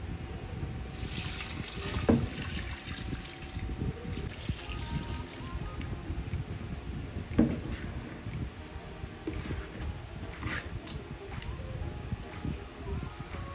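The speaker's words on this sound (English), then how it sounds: "So this is me washing the Zobo leaf again" Dried Zobo hibiscus leaves washed by hand in a bowl of water, a continuous close sloshing and trickling with a couple of sharper splashes as the leaves are stirred and rubbed.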